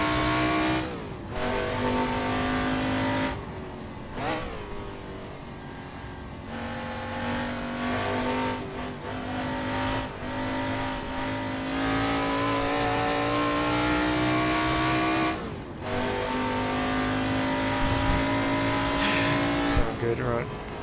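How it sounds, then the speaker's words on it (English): A loud, high-revving V8 race car engine in Assetto Corsa roars steadily, its pitch climbing with brief drops at gear shifts, with a faint voice talking underneath. "Sound from this V8. Sounds awesome."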